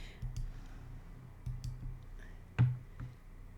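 A computer mouse is clicked at random through an online course quiz, giving a scattered series of soft, sharp clicks close by. One click near the end is louder than the rest.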